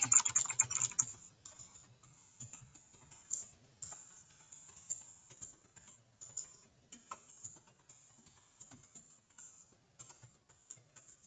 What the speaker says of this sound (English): you can type in something like,